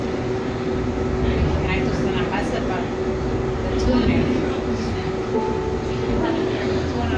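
A Calgary CTrain SD160 light rail train rumbles steadily along with a constant hum and rattling, a voice or two talking faintly underneath.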